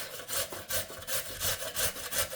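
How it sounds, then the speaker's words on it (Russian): Raw potato rubbed on a coarse grater straight into a mixing bowl, giving close, steady rasping strokes in a quick, even rhythm of about three per second. "На крупной терке натираем."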